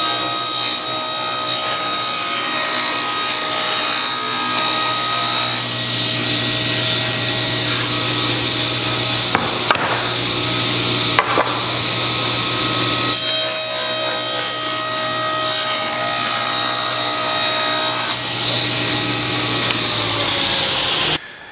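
A loud table saw whines steadily as it cuts through a wood blank, with a constant motor hum and brief pauses in the cut.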